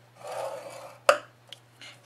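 A brief scrape and a sharp tap as cardstock is scored for a tissue holder, then fainter small scratches, all close and quiet with no talking.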